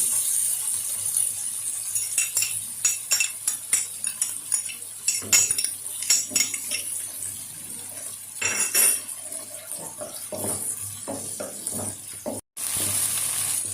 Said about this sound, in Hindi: अब हम इसमें 1 टेबल स्पून अदरक और 1 टेबल स्पून लहसुन ऐड कर रहे हैं, और इसको सौटे कर लेंगे।